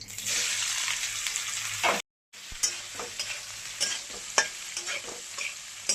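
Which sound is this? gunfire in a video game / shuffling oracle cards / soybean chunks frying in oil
soybean chunks frying in oil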